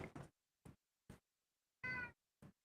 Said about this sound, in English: Do you hear how monstrous this cat is?